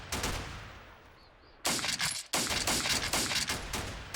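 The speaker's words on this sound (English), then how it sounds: "Yeah, he's firing there." Gunfire in the Steel Panthers World War II strategy game: a quiet lead-in of scattered faint pops, then loud, close bursts of rapid volleys that crackle repeatedly to the end, with no talking.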